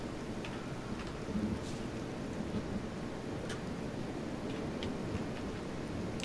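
Rain and thunderstorm ambience in the video game Kenshi: a steady broadband rain hiss with low rumbling thunder swelling softly, plus scattered faint ticks of drops, continuous and moderately quiet with no speech.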